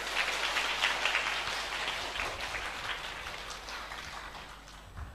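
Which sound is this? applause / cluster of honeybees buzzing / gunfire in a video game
applause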